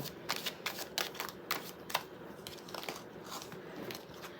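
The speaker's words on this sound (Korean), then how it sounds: "다시 마음을 잡고 셔플 해볼게요." Tarot cards are shuffled close up in quick, irregular bursts of riffling and slapping, soft papery snaps repeating over several seconds with no talking.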